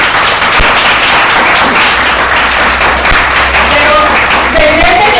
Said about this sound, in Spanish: ¿Puede dar un aplauso al Señor?